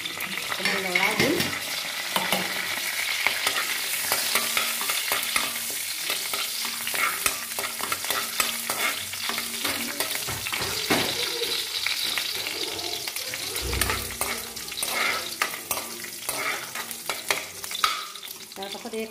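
Cardamom and bay leaves sizzle and fry in hot oil in a pan as a spoon stirs them, a steady crackling hiss with scraping strokes throughout.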